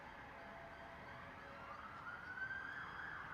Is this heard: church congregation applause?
no